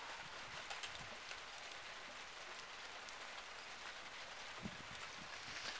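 Light desert rain with big drops pattering on surfaces, a sparse, steady patter of individual drops at moderate distance, fairly faint, with no talk.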